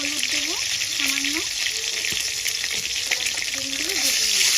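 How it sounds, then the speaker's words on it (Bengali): Eggs frying in a kadai with a little salt and turmeric, a steady bright hiss of oil close by, with someone speaking briefly over the sizzle. "তো আমি ডিমগুলো এবার ভেজে নেব"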